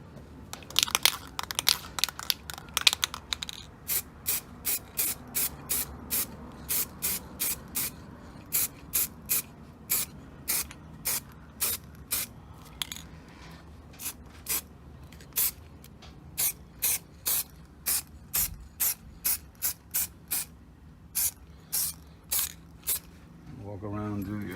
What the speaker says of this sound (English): making sure that I get all the area and that I spray it approximately 12 inches away